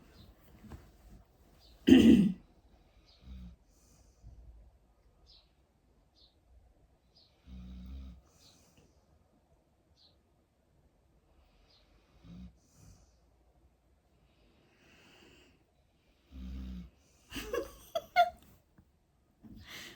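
Deep, rough snoring comes in loud bursts several seconds apart, with quiet breathing between them and no talking.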